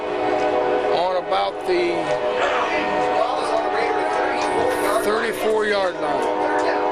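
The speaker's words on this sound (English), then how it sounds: "Well, that train's taking over, isn't it?" A long train horn blares and a train rumbles past near a high-school homecoming football game, loud and steady throughout, with a play-by-play commentator talking over it.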